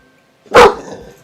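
One sharp, loud bark from a nearby dog, trailing off quickly into a brief echo.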